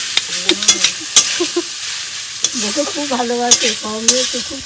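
Food frying in a pan while being stirred, with metallic scrapes and clinks of the utensil coming in quick bursts over a steady close sizzle.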